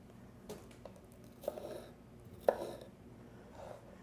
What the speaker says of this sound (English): Give it a little slice. It's another little piece of fibrous core. Cut that out.